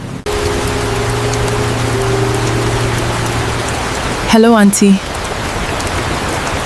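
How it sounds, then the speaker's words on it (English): Steady, loud rain falling outdoors, a constant hiss throughout, with a low hum underneath and a brief sharp whistling sound near the end; one voice speaks briefly over it. "It's raining."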